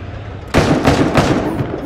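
Enemy gunfire in the VR shooter Into the Radius: after a quiet start, a loud burst of several rapid close shots cracks out, echoing and continuing through the rest of the moment.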